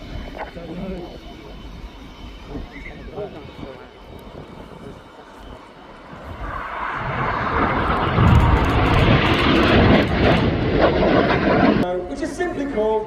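Red Arrows jets roar through a flying display at RIAT 2025, a distant rumble building to a loud sustained roar as the aircraft pass, with a commentator talking over the sound.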